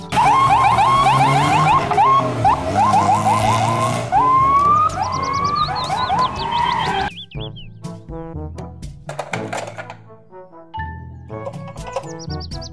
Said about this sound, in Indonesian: Mobil patroli polisi.